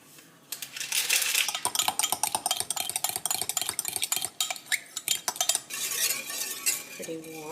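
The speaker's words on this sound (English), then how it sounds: "So I'll stir the sugar in." A spoon stirs sugar into milk warming in a pot, scraping and clinking against the metal in a quick, irregular rhythm. The strokes are close and fairly quiet, ending in a brief ringing tap.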